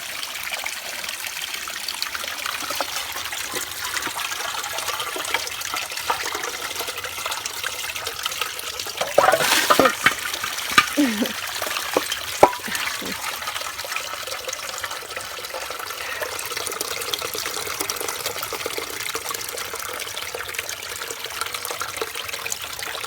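Fresh, clean spring water from a tap on a rural property in Ecuador, trickling in a steady, close stream for the whole stretch, with a few brief splashes and knocks about midway.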